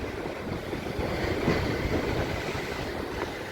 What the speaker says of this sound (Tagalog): narinig nyo ang lakas ng palo ng alon.